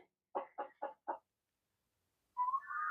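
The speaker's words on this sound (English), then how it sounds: "It is a real working, filthy, dirty coop. Good morning, chickies." Chickens in a backyard coop give four quick, soft clucks in a row, then after a pause a longer, rising, warbling call, all fairly quiet and close with no talk.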